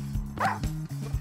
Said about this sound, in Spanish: ¡Ay no! ¡Un perro!